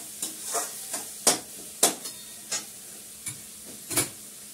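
A ladle scrapes bottle gourd curry, lau ghonto, out of a cooking pan in a string of sharp, irregular scrapes and clinks, fairly close and alone.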